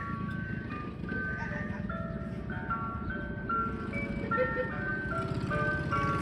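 A white Chevy Astro van ice cream truck plays its jingle melody as it passes, moderately faint tinkling tune over a low engine rumble, with no talk.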